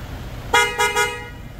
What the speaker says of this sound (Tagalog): nilagyan namin siya ng snail horn na busina